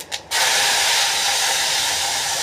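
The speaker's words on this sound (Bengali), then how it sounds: "তেজপাতা দিয়ে দিছি" Bay leaves hit hot oil for a chicken curry and burst into a loud, sudden hiss right after a brief clink, the steamy sizzle holding steady and close.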